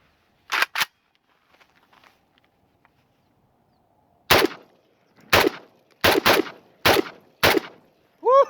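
A Century Arms VSKA AK-47 rifle fires single sharp, loud shots: two close together at the start, then after a pause a run of six spaced shots, with faint handling noises in between.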